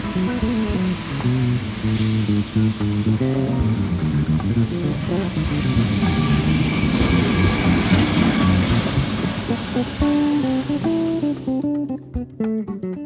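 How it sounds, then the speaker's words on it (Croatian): A yellow Lisbon tram, built in America, rolls along its rails with a steady rumbling and grinding drone that holds for the whole stretch and fades slightly at the end. "ovi tramvaji koji sada vidite iza mene nisu napravljeni u Portugalu, već vjerovali ili ne u Americi"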